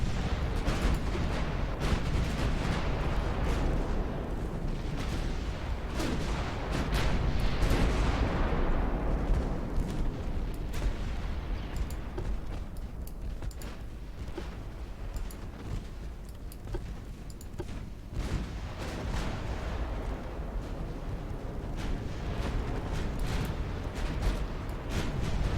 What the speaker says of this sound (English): Ammo detonations.